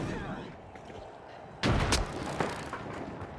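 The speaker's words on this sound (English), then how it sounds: "Ooh, that's an explosion." Explosions go off in the online shooter game The Finals, a sudden loud blast followed by rumbling debris and smaller booms over the game's ambient noise.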